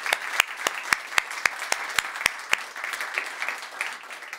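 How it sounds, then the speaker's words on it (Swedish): An audience in a Swedish panel-debate hall claps together, with strong evenly paced rhythmic claps over a bed of scattered applause, steady throughout and without talk. "Applåd också."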